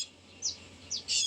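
Tiny bird chicks in a nest give three short, high, faint chirps, one after another, with quiet pauses between them.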